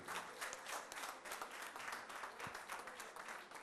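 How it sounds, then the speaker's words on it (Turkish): Studio audience applause on a live evening television show, broadband and steady at moderate loudness for the whole stretch, with no talk over it. "canı gönülden alkışlar"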